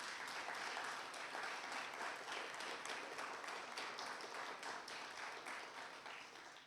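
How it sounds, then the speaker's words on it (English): Sustained applause from an audience at a church annual meeting, dense steady clapping that fills the room and gradually tapers off toward the end. "Let's give the worship and music team a big round of applause."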